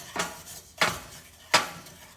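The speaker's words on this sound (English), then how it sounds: "So just keep stirring until it liquefies" A spoon clinks and scrapes three separate times against a pan of sugar being stirred until it melts for caramel, short bright strokes spaced under a second apart, close and fairly quiet with no talk.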